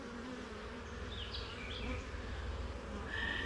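Honey bees, including Caucasian drones, buzz steadily in an opened hive, a faint continuous hum with a few higher whining passes of individual bees.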